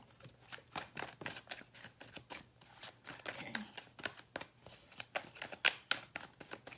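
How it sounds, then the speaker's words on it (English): Tarot cards being shuffled, a steady run of soft papery riffles and slaps close by, with quiet room tone underneath and no talking. "I like to shuffle on camera."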